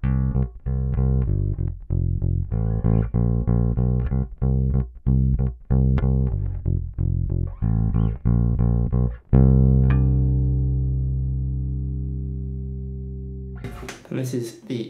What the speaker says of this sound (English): Now I'm just going to run you through some solo tones that you can get from this bass